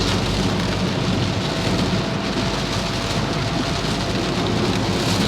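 Heavy rain drumming on a Daihatsu Ayla during a road trip, a dense, constant roar of drops on the car body with a low rumble underneath, steady and loud throughout.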